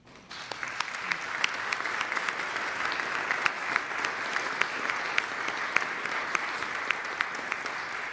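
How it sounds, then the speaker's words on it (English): Sustained audience applause fills a hall during an annual meeting, a dense steady patter of many hands with a few sharper nearby claps, holding for about eight seconds without voices. "after a round of applause"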